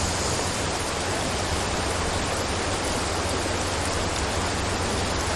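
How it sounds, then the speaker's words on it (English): Rain effects in the Paradise Killer video game, heard as a steady, dense hiss of falling rain that stays even and unbroken throughout, with no voices over it. "Ooh, there's rain effects."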